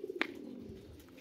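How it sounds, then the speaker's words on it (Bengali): A female Saharanpuri pigeon gives a short coo: a few soft low pulses, then one brief louder call, heard close and alone against a quiet room hum. "সাহারানপুরি মাদি কবুতর, সিঙ্গেল"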